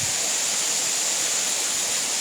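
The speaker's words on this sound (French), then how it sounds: "on va vous montrer vraiment plus de cascades maintenant" Waterfall in wild nature giving a steady, dense roar of rushing water, close and unbroken, with nothing else audible.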